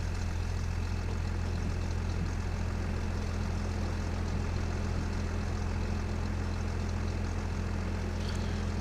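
Massey Ferguson combine engine running in Farming Simulator 25, a steady low droning idle with constant rumble, close and unbroken, no voices.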